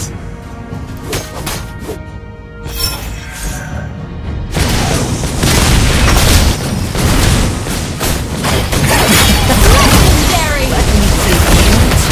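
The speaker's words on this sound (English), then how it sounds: "Your team destroyed a turret!" Mobile Legends battle with a turret being destroyed: a deep boom and crashing explosion swell into sustained loud, dense combat noise, layered with game effects and voice announcements.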